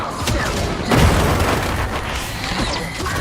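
A holy grenade detonates in the Warhammer Darktide video game, a loud booming blast near the one-second mark that stands out above dense, continuous battle noise and gunfire.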